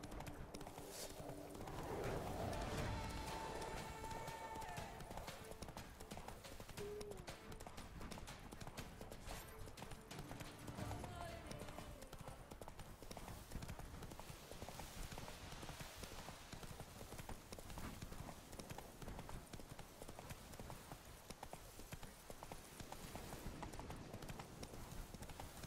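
Hoofbeats of Roach, Geralt's horse in The Witcher 3: Blood and Wine, galloping in a steady loud drumming rhythm over game music and ambience, with a brief whinny and faint voice.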